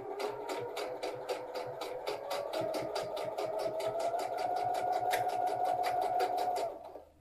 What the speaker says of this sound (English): Sewing around a curve, the machine can get a little bit away from you